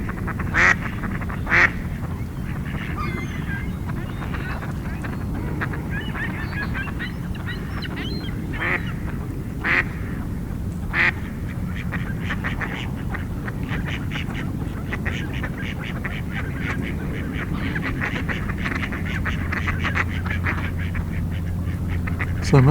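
Many ducks, mostly mallards, quack and honk in a busy flock on a partly icing lake, scattered calls overlapping at moderate distance over a low outdoor rumble.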